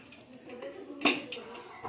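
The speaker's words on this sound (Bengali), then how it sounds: "এবারে প্রেশার কুকারের ঢাকনাটা লাগিয়ে দেওয়া হচ্ছে" A pressure cooker lid is set on and shut over khichuri in a home kitchen, one sharp metallic clack standing out against low kitchen background noise.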